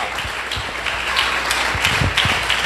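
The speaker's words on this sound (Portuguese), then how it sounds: "Você pode aplaudir ao Senhor Jesus" A church congregation applauds during a Portuguese-language sermon, a sustained wash of many hands clapping with a few sharper nearby claps standing out.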